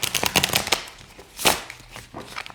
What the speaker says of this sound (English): this way of shuffling is really nice